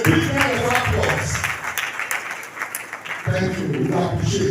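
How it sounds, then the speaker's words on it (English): An audience at a state drug control committee commemoration gives a burst of clapping, with a voice talking before it and again after it. "A round of applause for that lecture, please. A big round of applause."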